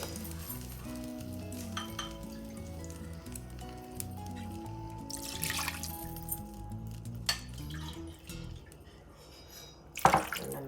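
Water is poured from a cup into a hot pan with sizzling and splashing, alongside clinks of utensils and glass, ending in a louder clatter.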